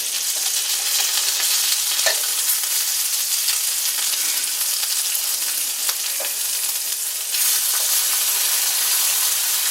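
Steak and bacon frying in a pan with a steady, close broadband sizzle, interrupted by occasional brief clicks and scraping, with no talking.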